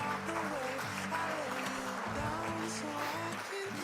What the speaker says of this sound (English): We have to wait for the extended applause.